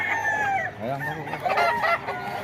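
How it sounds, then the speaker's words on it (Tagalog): Many chickens and roosters at a market, a dense chorus of clucks and crowing calls overlapping close by, with a voice talking over them. "Maraming manok sila mga kaidol."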